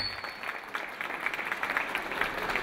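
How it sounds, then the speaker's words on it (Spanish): Applause from an audience at a Mexican danzón and mambo music salon, greeting a performing orchestral ensemble; dense steady clapping fills the short stretch with no voices over it. "Un aplauso"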